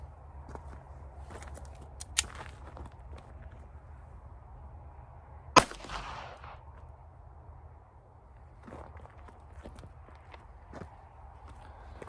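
A Walther PPK/S .22 LR pistol fires a Winchester Super X 40-grain hollow-point round in a single sharp, loud crack midway through, with a fainter click earlier, against quiet outdoor background noise.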